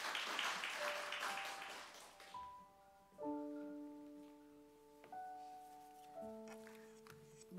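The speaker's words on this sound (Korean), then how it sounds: "우리 박수로 맞이해 주시기 바랍니다." At a church afternoon service, an audience claps for about two seconds to welcome a deaconess to the front. The applause fades and gives way to sustained keyboard tones.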